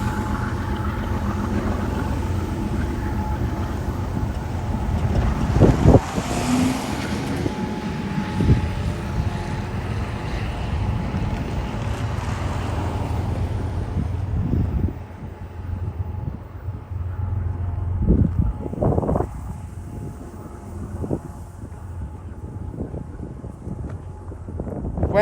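An intermodal freight train led by four locomotives rolls past with a steady, loud rumble and rushing wind. The noise holds for a long stretch, then thins as the train moves away.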